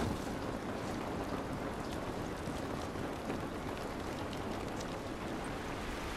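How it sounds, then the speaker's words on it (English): Steady rain pours outdoors in The Last of Us Remastered, a dense, even hiss of falling water that holds unchanged from start to finish with no voices. "This rain ain't gonna do us any good."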